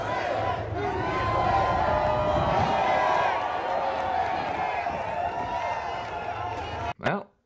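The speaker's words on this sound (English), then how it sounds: "workers chant USA as President Trump visits their construction site" A large crowd of union workers at a New York City construction site chants during a Trump visit, a massed roar of voices that stays loud and steady before cutting off with a sharp thump near the end.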